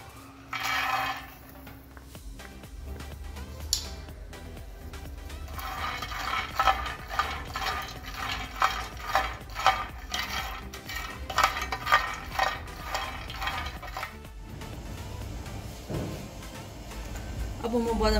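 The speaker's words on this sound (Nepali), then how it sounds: "यो बदामलाई अब म ड्राई रोस्ट गर्न लागिरहेको छु। यसमा तेल हाल्नु पर्दैन, यसलाई ड्राई रोस्ट गर्नुपर्छ" Peanuts dry roasted in a pan with no oil rattle and scrape as they are stirred, a run of close, rhythmic dry clatters with quieter gaps at the start and end.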